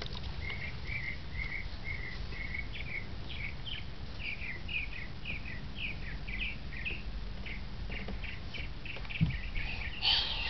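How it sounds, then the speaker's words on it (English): Birds chirp outside a car in a steady run of short, repeated high tweets, moderately faint against a low, constant rumble from the vehicle, with no talking. "Oh, did you hear the bird? Do you hear the birdies?"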